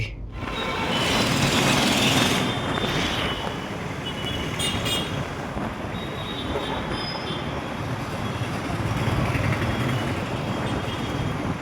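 A train rumbles past nearby, steady clatter of wheels on rails with some high squeal, lasting throughout without speech.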